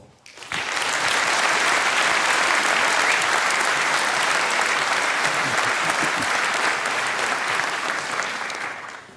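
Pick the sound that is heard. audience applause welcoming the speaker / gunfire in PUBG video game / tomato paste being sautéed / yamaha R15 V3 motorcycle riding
audience applause welcoming the speaker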